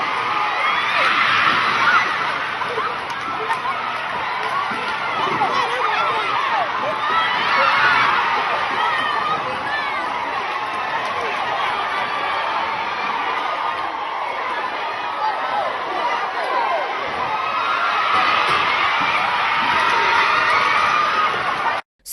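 A church congregation cheers and shouts, a loud, sustained crowd roar with whoops and chatter that swells in waves and keeps going throughout.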